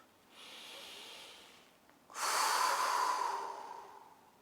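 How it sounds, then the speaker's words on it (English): Deep breathing during a guided breathing exercise, close and quiet: a soft inhale followed by a stronger, longer airy exhale, with no talking. "Take 5 deep breaths."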